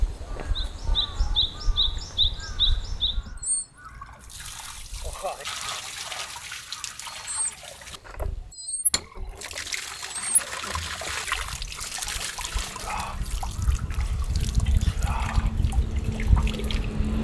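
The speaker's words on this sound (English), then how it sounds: "cool water straight from the well" Birds chirp early on, then a few metallic clanks and squeaks give way to cool well water gushing and splashing steadily from a hand pump, in a Japanese spring-water town.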